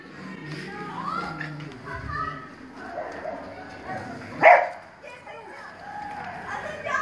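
A single sharp dog bark rings out midway over lively background chatter and children's voices.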